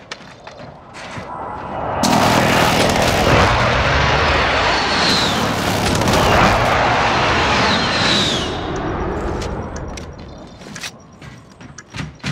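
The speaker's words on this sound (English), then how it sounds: "Be advised, friendly precision airstrike inbound." A friendly precision airstrike jet roars overhead in Call of Duty Warzone, a loud rising and falling engine rush lasting several seconds with whistling passes and thuds, fading out amid scattered game clicks.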